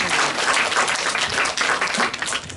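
An audience at a school parent education session gives a lecturer a warm round of applause, dense continuous clapping from many hands filling the room without any voices on top.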